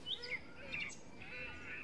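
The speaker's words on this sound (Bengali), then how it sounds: "সাথে পাখির কিচিরমিচির ডাক" Small birds chirp and twitter in a green forest, with bright, quick calls repeating over a soft, steady background and no voices.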